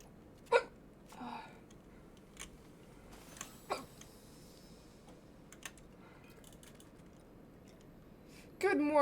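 A woman streaming a video game has the hiccups; a few sharp, brief vocal catches pop out at irregular intervals over quiet room noise and faint keyboard clicks, followed by a louder burst near the end.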